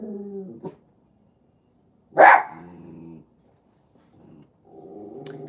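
A dog gives one loud sharp vocal burst, growl-like with a yelping edge, set between stretches of human talk, with softer low dog sounds trailing after it.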